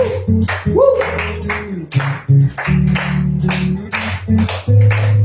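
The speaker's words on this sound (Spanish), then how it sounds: "Así que acompáñame con tus palmas." A church congregation claps in steady rhythm during worship, sharp regular hand claps about twice a second over sustained instrumental backing, close and loud throughout.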